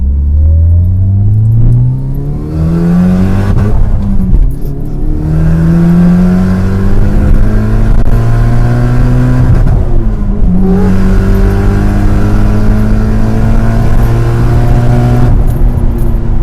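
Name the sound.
Mitsubishi Lancer Evolution VII engine and blow-off valve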